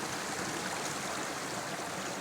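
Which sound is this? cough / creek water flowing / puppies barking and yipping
creek water flowing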